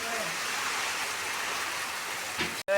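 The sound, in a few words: heavy rain in a windstorm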